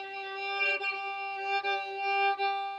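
Violin harmonic on the third finger, bowed lightly without pressing the string down: a steady, pure sustained tone with bright overtones, ringing continuously for about three seconds with slight bow swells.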